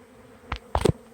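A honeybee swarm clustered outdoors in Minnesota buzzes faintly in the background, with a few sharper close passes of individual bees and no talking.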